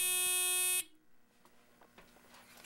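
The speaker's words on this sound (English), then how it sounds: "here's what the buzzer sounds like." Simplex 2098-9805 fire alarm panel buzzer giving one loud, steady, harmonic-rich tone that cuts off abruptly after under a second, leaving faint room noise.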